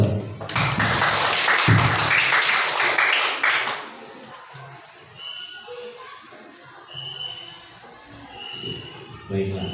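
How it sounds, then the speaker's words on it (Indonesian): A primary class claps hands in a loud, dense burst for the first few seconds, then the room falls quieter with scattered voices and a few small knocks. "Tepuk tangan dong."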